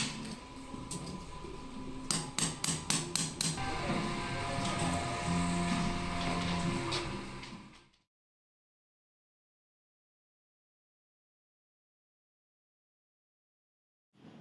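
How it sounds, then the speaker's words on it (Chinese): A hammer drives a chisel into a floor to uncover a leaking water pipe, giving a quick run of sharp metallic strikes over a constant background hum that then cuts to near silence. "用凿子加铁锤先敲"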